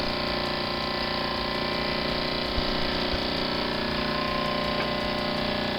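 A steady mechanical chugging hum of a Mamod TE1A model steam engine running continuously, close by and even in level, with no talking.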